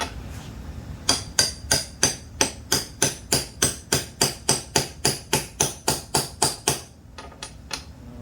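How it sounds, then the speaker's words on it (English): A hammer striking a socket to drive a fork part into a Mototec mini bike during a fork kit install, about twenty even, sharp metallic taps in a steady rhythm, close and loud, then a brief pause and two lighter taps. "Tap it in nice and gentle, and take my socket."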